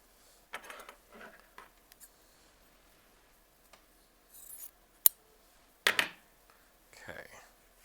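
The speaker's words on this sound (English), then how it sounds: "So I'm going to give this a little snip right here." Scissors snip through fabric in a quilting session, a few short crisp cuts and small ticking clicks scattered between quiet handling noises, fairly close and with no talk.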